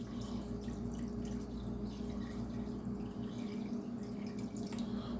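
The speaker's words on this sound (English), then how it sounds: "We're going to add some water to this." Water runs steadily into a cooking pot of meat seasoned with pepper and barbecue sauce, a continuous faint trickling stream lasting throughout over a low kitchen hum.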